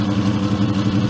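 A Myford ML10 lathe spindle runs with a steady, loud, close mechanical hum and whine, continuous and even throughout with no other sounds.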